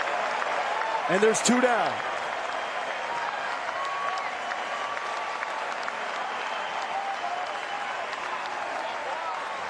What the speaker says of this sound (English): It's got the crowd buzzing